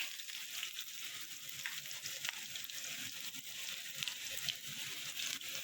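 Chopped garlic fries in oil over a lowered gas flame, a close, steady sizzle with soft scraping as it is stirred in the pan, and no voices.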